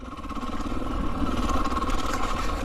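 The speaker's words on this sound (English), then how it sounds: "your typical fuel injected 4-stroke gas dirt bike" Steady idle of a fuel-injected four-stroke gas dirt bike with an aftermarket air boot, a close, even mid-pitched rumble with light mechanical clatter and no talking.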